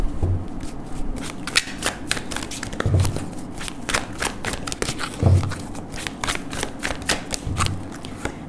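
Tarot cards shuffled by hand to draw clarifier cards, a close, continuous papery riffling and flicking with soft thumps at regular intervals, heard alone.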